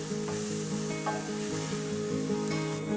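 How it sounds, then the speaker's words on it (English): Onions, garlic and ginger sautéing in a pan for chickpea chana masala, a steady close sizzle with a low hum underneath and a few soft spatula scrapes, no voices. "Saute the onions for 3 to 4 minutes. Garlic and ginger. Saute for another minute."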